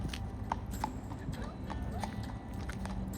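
A 12-year-old Tennessee Walking Horse gelding walking on a trail, hooves clip-clopping in an even rhythm, fairly close, over a constant outdoor background with someone talking throughout.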